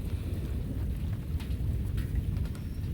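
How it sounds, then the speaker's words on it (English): Continuous thunder rolls through a storm in the northwoods, a heavy low rumble that never lets up, mixed with steady rain hiss and a few sharp crackles. "It has been non-stop thunder for about a half hour, no joke. Just constant thunder."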